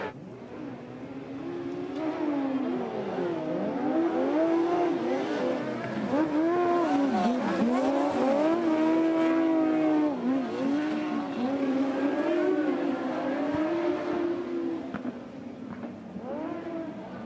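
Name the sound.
racing motorbikes on an arena track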